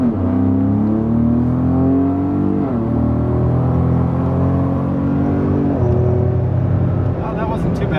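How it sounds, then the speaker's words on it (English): Ford Raptor accelerating in sport mode, engine note rising in steady sweeps with distinct drops at each gear shift, heard loud from inside the cabin, with talking over the drone. "the hard shifting when you're in sport mode"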